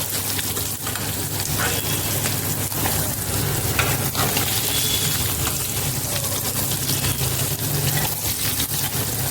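Katla fish frying in hot oil, a steady crackling sizzle with occasional sharper pops, close up and continuous throughout.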